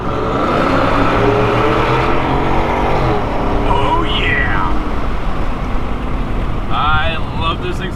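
A 2017 Yukon Denali XL with a Corsa exhaust revs loudly under an overpass, its engine roaring steadily with wind rush, and a man briefly exclaims over it.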